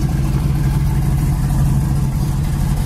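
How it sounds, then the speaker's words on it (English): A 1970 Camaro engine idles steadily outdoors on a cold day, a loud, even low-pitched rumble with a steady hum and no voices. "engine sounds great, runs great."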